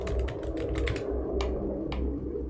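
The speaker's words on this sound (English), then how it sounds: "I have to press the keyboard Z for the command" Rapid computer keyboard keys clacking in quick uneven bursts during play of the game Critical Strike: Descendant of the Prophet, close and fairly loud over a steady low background hum.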